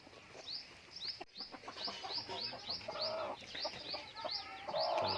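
Several roosters crow repeatedly over a busy background of hens clucking and small birds chirping, a continuous farmyard chorus among poultry recovering from CRD respiratory disease.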